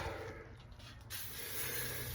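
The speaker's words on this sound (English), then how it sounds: "let me spray a little more over here in the front" Steady hiss of disinfectant spray inside a 2006 Ford E-350 camper van conversion, continuous and fairly close, with no talking.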